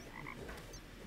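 Frogs croaking in the Terraria Calamity Mod, a few short, faint game croaks over a quiet, muffled background.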